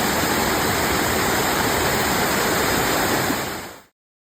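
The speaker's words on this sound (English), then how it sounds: "there's a couple really pretty waterfalls" A waterfall roars as a steady broadband rush with no breaks, loud and close. It cuts off abruptly near the end.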